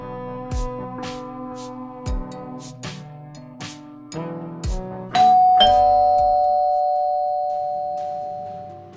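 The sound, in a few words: doorbell ringing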